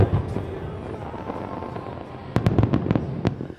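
Fireworks from Bulgaria's closing show in Monaco's pyromusical contest, heard from a distance: a steady rumble gives way to a rapid cluster of sharp, loud bangs and crackles near the end.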